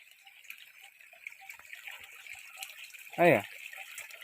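Steady rushing water runs full from a 1.5-inch borewell pipe just switched on, a continuous hiss with a voice calling out briefly near the end.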